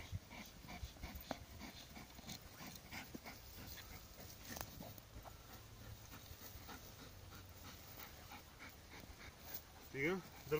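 A seven-month-old dog pants steadily through a bite-training session, faint and close, with a brief whimper near the end while people talk in the background.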